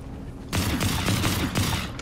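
Fortnite gunfire erupts suddenly into a loud, sustained burst of rapid shots with a dense rumbling texture, close and continuous for over a second and a half after a brief quieter lead-in, with no talking.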